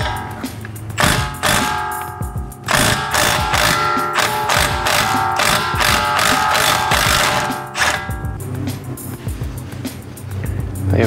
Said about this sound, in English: use either an extension bar or an impact wrench to get these off